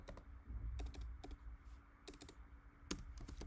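Keys clacking on a computer keyboard while a MySQL select statement is entered, coming in quick bursts of several taps separated by short pauses, close and fairly quiet.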